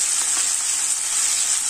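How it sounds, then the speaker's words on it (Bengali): Onion, garlic and ginger paste frying in a pan, a steady close sizzle with faint stirring scrapes running throughout, no voices. "ভালো করে মশলাটা কষিয়ে নিতে হবে।"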